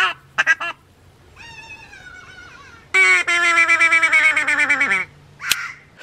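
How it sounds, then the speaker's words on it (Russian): Loud, close duck quacks come in drawn-out, nasal calls, including one long pulsing run, with short squawks before and after. "На нас напали утки."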